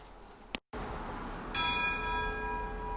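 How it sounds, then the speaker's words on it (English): Church bell ringing near a house in Los Angeles on Good Friday, its clear sustained tones entering after a brief click and pause and ringing on steadily, moderately near. "This is that time of day where this house has a church bell."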